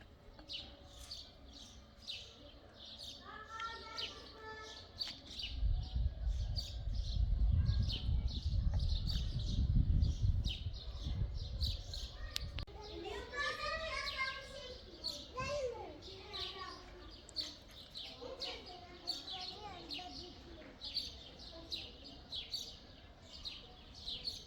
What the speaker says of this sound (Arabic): صوت العصافير